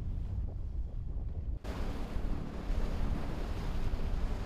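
Strong sea waves off the Gijang coast near seaweed farms roar in a continuous broadband rush mixed with wind buffeting the microphone, steady and loud throughout, with no voices.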